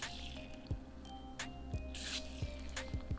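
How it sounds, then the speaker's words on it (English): CLP cleaner is sprayed into the barrel of a Ruger 22/45 Lite pistol in short, faint hissing bursts, each followed by soft wet squishing and dripping, in a quiet close setting. "So I'm just going to spray some around in here"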